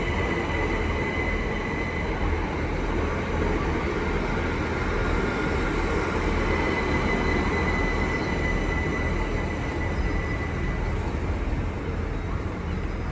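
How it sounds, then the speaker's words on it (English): A Great Western Railway class 800 train, 800 019, arriving at Slough on the Great Western Main Line, a steady loud rumble of rolling wheels and engine noise close by, continuous throughout with no talk. "now arriving is the 1333 Great Western Railway service from London Paddington to Oxford"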